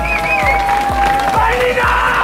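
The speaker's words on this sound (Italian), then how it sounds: "Nino, un applauso." Small crowd of followers applauding and cheering in a mix of claps and whoops, loud and close, with voices calling out and a chant-like rhythmic shout over the clapping.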